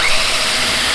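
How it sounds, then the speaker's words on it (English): A battery power drill with an auger bit bores through wood, widening holes for carriage bolts; a steady, loud, close motor whine with cutting noise runs unbroken throughout. "I'm going to take this bit with this auger bit, just a hair bigger than the carriage bolt thickness, and I'm just going to go through"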